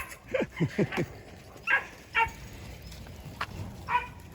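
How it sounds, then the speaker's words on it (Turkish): Kangal dog growling and grumbling while playing, a string of short throaty yips and growls in quick bursts, then scattered quieter ones, fairly close and soft overall. "hemen bir hırlama yaptı"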